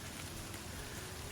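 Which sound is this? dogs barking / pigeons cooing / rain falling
rain falling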